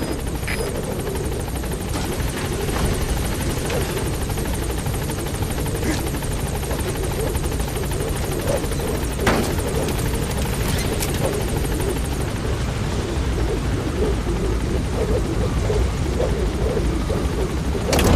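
Support helicopter in the Metal Gear Solid V video game arriving at a landing zone, a loud sustained rotor roar and whine that holds steady throughout, with brief radio-style speech over it.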